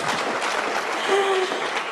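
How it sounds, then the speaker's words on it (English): An audience at an education technology summit in Kenya claps, a continuous loud spread of hands under a faint brief tone, with no talk over it. "So, can we give them a hand clap?"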